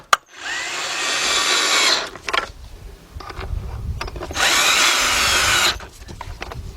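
A power tool tightens T30 bolts on a BMW starter in two loud, sustained whirring bursts. A quieter clunk and some rattling come between them.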